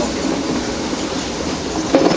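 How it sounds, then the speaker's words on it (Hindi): A metre gauge diesel locomotive pulls a train on the Ooty mountain railway, giving a loud, steady rumble of wheels and carriages with a brief rise in clatter at the end. "मीटर गेज का डीजल इंजन फिर इसको पुल करके उदगमंडलम तक ले जाता है"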